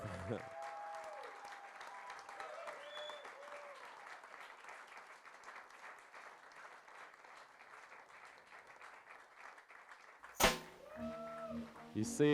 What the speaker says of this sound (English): if you keep clapping like that and I don't get to speak, we could be here all night